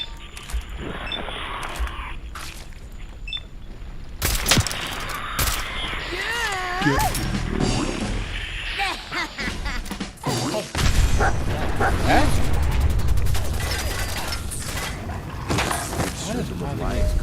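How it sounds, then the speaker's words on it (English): Random explosion effects triggering from weapons in Fallout 4 combat, repeated sharp blasts and crashes over steady gunfire and mechanical clatter, with a strained creature cry rising midway, all loud and dense. "one of my weapons actually has an explosion random effect, and for some reason it's now just always procking"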